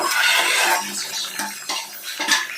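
Metal lid clatters as it lifts off a pot of boiling whole fish curry, followed by a few lighter clinks and scrapes of cookware.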